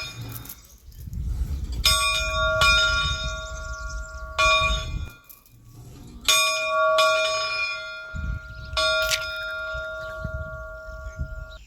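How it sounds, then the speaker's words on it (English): A bell at a rural hermitage in La Mancha, Spain, rung by yanking its rope, clangs several times in uneven strikes, each ringing out with a long metallic decay over wind and outdoor rumble. "I'm gonna go ring the bell."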